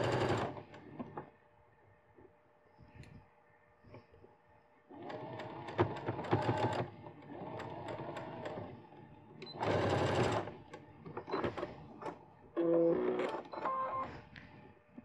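A sewing machine stitching a seam beside a zip fastener runs in bursts of close, steady mechanical whirring. Between runs there are short pauses filled with faint handling clicks and fabric movement.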